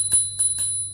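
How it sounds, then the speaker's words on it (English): A handlebar bell on an HX X7 electric scooter is rung three times in quick succession, each ding bright and close with a sustained ringing tone between strikes over a low steady hum. "Oh, it has a bell."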